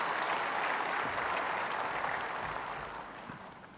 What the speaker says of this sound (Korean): 박수 한번 드리십시오